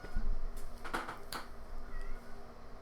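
A cat meows a few times, short close cries around the middle of a busy room with a steady low hum underneath.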